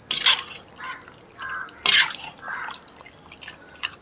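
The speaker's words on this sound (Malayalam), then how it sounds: "ആദ്യം തന്നെ പോർക്കിൻ്റെ ആ വേവിച്ച വെള്ളവും പിന്നെ പോർക്കും കൂടി നമുക്ക് ചേർക്കാം." Pork cooking water and cooked pork are poured into a pan of masala, with a few close splashy drips and liquid gurgles coming in bursts, separated by quiet gaps.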